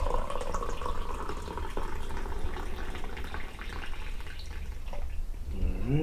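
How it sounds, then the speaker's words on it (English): Brewed black coffee poured into a cup, a soft continuous liquid trickle with a faint rising fill tone near the end, under steady background noise. "So I'm going to go ahead and pour mine so John can kind of get a close up here."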